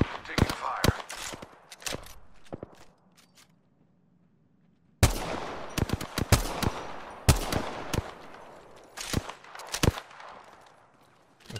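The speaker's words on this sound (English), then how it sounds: "Shots. Target over there. Far off. Firing on subject. Taking fire." Gunfire in the video game Apex Legends: rapid bursts of loud, close shots in clusters, with a quiet gap of a couple of seconds before firing resumes in dense volleys.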